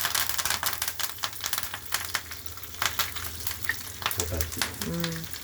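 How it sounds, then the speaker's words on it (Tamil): Oil with mustard seeds, curry leaves, chana dal, urad dal and cumin frying over a low flame for a radish chutney: a close, steady sizzle broken by quick popping crackles and stirring scrapes, with a brief spoken voice near the end. "எண்ணெய், கடுகு, கறிவேப்பிலை, கடலப்பருப்பு, உளுத்தப்பருப்பு, ஜீரகம் இவ்வளவு போட்டிருக்குறாங்க ஃப்ரெண்ட்ஸ்."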